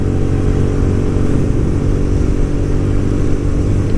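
A Hyosung GTR250R motorcycle engine cruises at about 6,000 RPM at 60 mph, a loud steady low drone with a constant throbbing buzz and slight wind rush.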